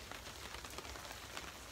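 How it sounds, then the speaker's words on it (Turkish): Rain falling outdoors, a soft continuous hiss of drops striking surfaces, faint and even throughout with small irregular patters. "Yağmur yağdığı için"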